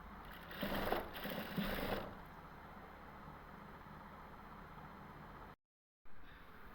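A sewing machine stitches lace onto a shirt, a steady quiet whir that surges briefly at the start, runs evenly, then stops abruptly for a moment before resuming.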